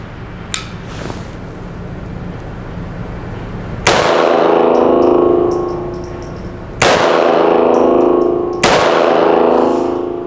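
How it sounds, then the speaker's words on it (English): A Sig Sauer P322 .22 pistol is fired, with three sharp shots several seconds apart, each ringing with a metallic clang and decaying echo at an outdoor range, loud and close. "we're just gonna pop off a couple rounds"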